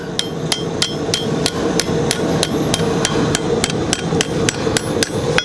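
A cross peen hammer strikes hot steel while a bottle opener is forged, roughly fifteen sharp ringing blows in a fast, steady rhythm, close and loud with no talk.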